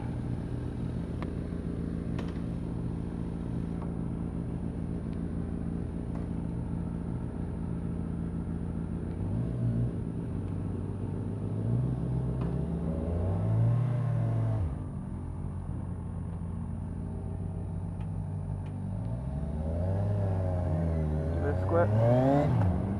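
A 2015 Kawasaki Ninja 1000 motorcycle engine on a test ride, a steady close rumble with rising revs and gear changes toward the end, with some talk at times.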